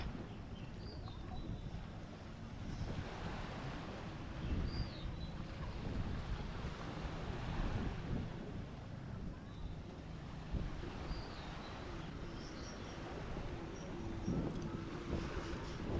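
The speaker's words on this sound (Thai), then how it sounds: "มีแบนาน่าโบ๊ทนะมีเจ็ตสกีนะครับ ได้ยินเสียงตลอดนะ" Sea at Pattaya Beach with jet skis and banana boats out on the water, heard as a continuous wash of waves and wind with faint engine drone in the distance and occasional distant voices.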